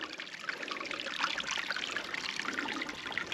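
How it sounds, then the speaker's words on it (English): Water trickles and dribbles steadily out of a drain pipe partly restricted by roots, a soft, continuous splashing flow close by, quiet and unbroken, with no talking. "we're getting water out of there"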